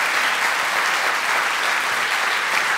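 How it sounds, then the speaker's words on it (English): A conference audience gives steady, dense applause for a speaker taking the stage at a skepticism event, a continuous wash of many hands at an even level throughout, with no voices rising above it. "I appreciate that applause."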